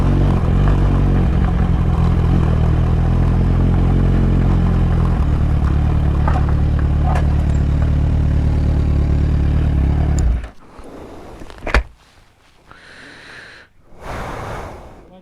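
Kawasaki Z1000 motorcycle riding an off-road trail, engine roaring loud and close for about ten seconds before cutting out, followed by quieter rustling and a sharp knock.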